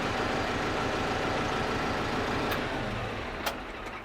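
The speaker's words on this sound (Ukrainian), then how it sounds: "Вибрали 540, відпускаємо і все, хвостовик у нас почав крутитися." A KIY 90 hp tractor runs steadily close by with its PTO shaft spinning at 540 rpm, giving a constant loud engine drone with a low rumble, then a couple of faint clicks near the end.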